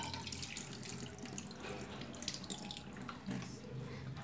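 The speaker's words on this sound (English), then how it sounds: "I like washing my meat, so I'll wash them first." Tap water runs steadily over meat being washed in a kitchen sink in Kenya, a continuous splashing hiss that holds throughout with a few louder surges.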